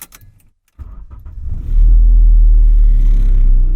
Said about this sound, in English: Let's start it up and get ready to go.